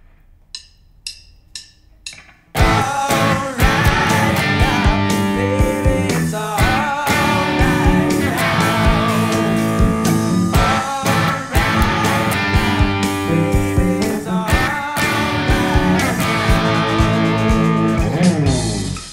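Four sharp muted clicks count in, then a loud distorted electric guitar launches into the chorus riff, chugging steadily with dense, gritty chords.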